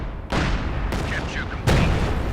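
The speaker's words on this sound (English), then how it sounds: "SU-76, go ahead. Another barrage." In Company of Heroes 2, an SU-76 artillery barrage lands as a few heavy booming impacts about a second apart, each followed by crackling debris, with faint game sounds in between.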